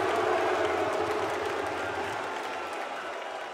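Large esports arena crowd at the CS:GO Paris Major 2023 roaring and applauding as a player hypes them up: a dense, sustained wall of cheering and clapping that slowly eases off over a few seconds.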